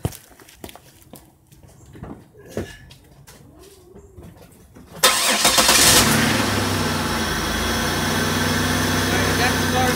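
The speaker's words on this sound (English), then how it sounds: "Okay, let me go start my car." A car engine, started using jumper cables, turns over after some faint shuffling and clicks, then settles into a loud, steady idle close by with no talking.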